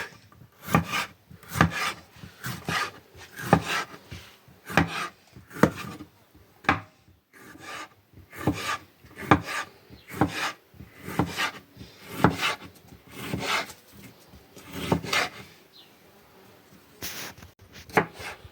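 A knife chopping pepper on a wooden cutting board, with steady rhythmic thuds and scraping strokes repeating close by for the whole stretch, with short pauses between bursts.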